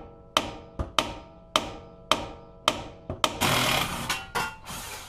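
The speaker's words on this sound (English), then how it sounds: "we're going to smack this, the knuckle, down here" Sharp metallic hammer blows on a car steering knuckle, a Mazda strut replacement, about nine strikes at a steady pace, each ringing briefly, ending with a scraping rattle.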